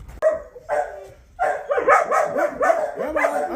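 Several puppies bark and yip excitedly at close range, a sharp initial bark followed by overlapping high-pitched yaps and whimpering cries in a continuous chorus.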